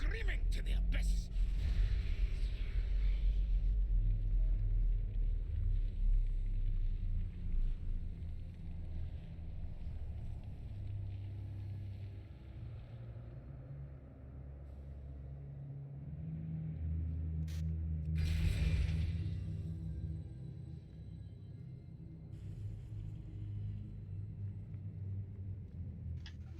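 An elevator in World of Warcraft's Ny'alotha raid gives a steady, deep mechanical rumble that swells and fades over its ride, with brief sharper sounds now and then.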